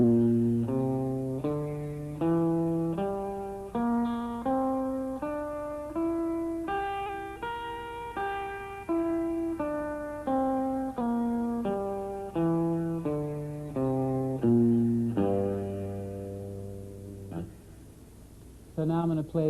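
A guitar plays a bluesy five-note pentatonic-style scale with an E natural in place of the F, one note at a time with even plucks, running up and back down at moderate volume with clear sustain.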